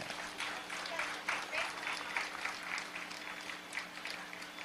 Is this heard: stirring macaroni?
no